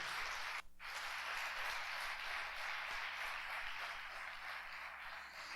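A church congregation applauds in a steady, sustained wash of clapping that fills the whole stretch, soft and somewhat distant, with no voices over it.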